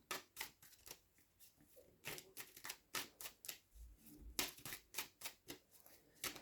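Tarot cards being shuffled by hand, a series of crisp riffling bursts in an uneven rhythm, close and quiet with no talk.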